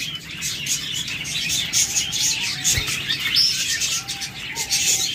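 A pair of milk-white albino pet birds sitting with eggs chirp and tweet in a busy, continuous chatter, high and near, with a faint flutter of wings at one point.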